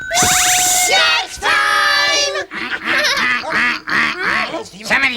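Duck-like quacking in a children's show, loud and close, with a long honking call followed by a rapid run of rhythmic quacks, mixed with voices.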